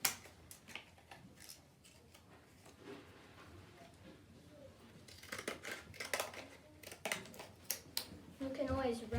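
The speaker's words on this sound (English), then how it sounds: "So I'm going to make the edges look cool on this one, and I'm going to cut this around." Scissors snip around the edges of a paper bag in a series of close, crisp cuts that grow busier and louder in the second half, with a voice talking quietly in the background.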